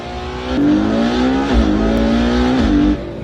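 A Ferrari 812 Superfast's naturally aspirated 6.5-litre V12 revs loudly and close by, its pitch climbing, dipping and climbing again in a few smooth throttle sweeps before cutting off abruptly.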